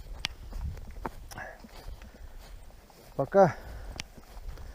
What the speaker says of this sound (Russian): Вот такие вот у нас красавцы кони, лошади, жеребцы